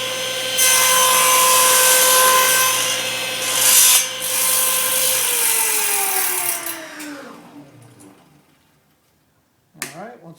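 A power saw cuts through a wood segment for a segmented turning project, whining loud and steady for several seconds before the blade spins down to silence, followed by a brief clunk.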